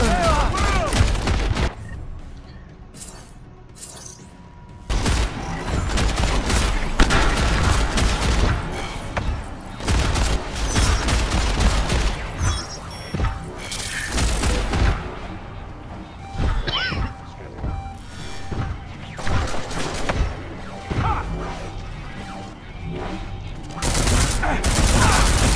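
Gunfire in Deus Ex: Mankind Divided cracks in repeated sharp volleys and single shots, with crashes and impacts mixed in, loud and close throughout, broken by short quieter gaps.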